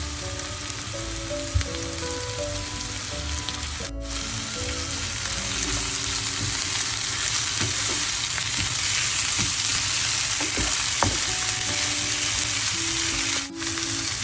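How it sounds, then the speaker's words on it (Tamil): Crushed ginger sautéing in a pan for a Sri Lankan-style roasted squid curry, giving a steady, loud sizzle and frying crackle with occasional soft stirring scrapes throughout. "இப்போ சேர்த்துட்டு நல்லா இந்த பச்சை வாசம் போக வதக்குறேன்."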